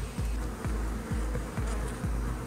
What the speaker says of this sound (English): still plenty of bees about